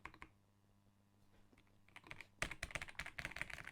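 Typing on a Keychron V3 mechanical keyboard plugged into a cheap laptop: a few isolated clicks over a faint hum, then a rapid, close run of crisp clacking keystrokes.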